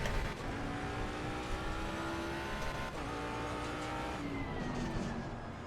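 A race car engine in Assetto Corsa Competizione drones loud and continuous, its pitch climbing through the gears with brief shifts and one drop before rising again, with no speech over it.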